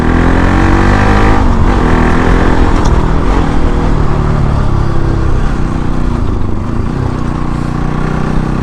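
A Bajaj Pulsar NS 200 motorcycle engine roars steadily while climbing a hill road, loud and close with a continuous droning growl and slight shifts in pitch as the rider holds the throttle.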